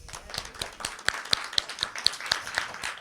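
A small audience at an open mic poetry night claps, with sparse, distinct hand claps scattered at an uneven pace over a few seconds.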